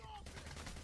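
Gunfire from the video game Payday: The Heist sounds as a dense, loud burst of rapid shots that fills the whole brief moment.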